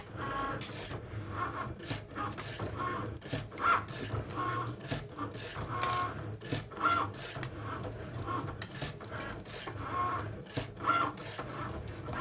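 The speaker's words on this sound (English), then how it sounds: "It's so much more pleasant when the Cricut is cutting than it's supposed to when the Cameo is cutting." A Cricut cutting machine cuts a card, a soft continuous mechanical whir with repeated quiet clicks and carriage shuttling sounds that keep an even pace throughout.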